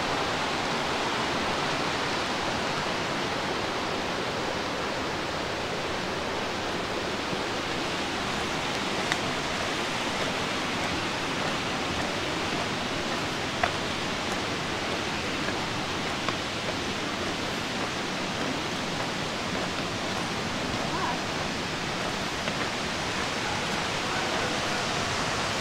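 A waterfall rushes with a steady, loud broadband roar that holds constant from start to finish, with no voices, beside a creek trail near Sweet Arrow Lake.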